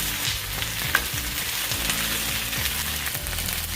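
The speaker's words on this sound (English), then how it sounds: "I want the okra to be stir fried so that it won't be slimy" Okra stir-frying in a hot pan for chicken and cod fish gumbo, a steady close sizzle with crackling splatter and a few sharper pops, several scraping stirs breaking through the hiss throughout.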